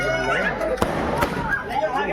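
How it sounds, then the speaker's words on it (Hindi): Fireworks and firecrackers at a Bhim Jayanti festival celebration, with a couple of sharp bangs and whistling, crackling bursts under someone talking and crowd noise. "देखिए क्या आकर्षक आतिशबाजी है।"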